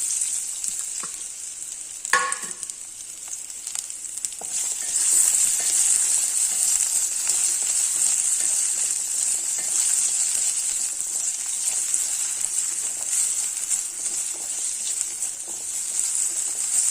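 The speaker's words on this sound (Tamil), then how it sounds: "அடுப்பில் கடாய வச்சுருக்கேன் எண்ணெய் விட்டுக்கிறேன் இந்த உருளைக்கிழங்க ஃப்ரை பண்ணிடலாம்" Potatoes frying in oil in a kadai give a steady, close, bright sizzle that holds for the whole stretch, with a brief stir or clatter early on and no voices.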